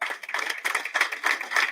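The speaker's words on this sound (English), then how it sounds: "You all deserve a wonderful applause" Audience applause for graduating inmates and officers at a Mile 2 Prison skills graduation ceremony: a steady, dense patter of many hands clapping, fairly close and continuous throughout.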